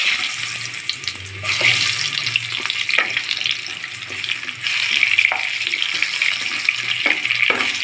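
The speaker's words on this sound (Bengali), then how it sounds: "চুলার আঁচ হাইটে রেখে আলুগুলি লাল লাল করে ভেজে নিয়েছি" Potatoes coated in salt and turmeric fry in oil over high heat, giving a steady, close hiss of sizzling with no one talking.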